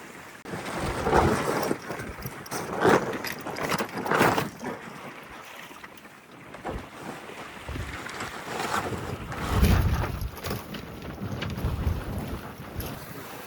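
Wind rushes over a sailboat heeling hard at about 4.5 knots on a clear day off the West Coast, with gusty buffeting, water wash against the hull and a faint high whistle from the rigging.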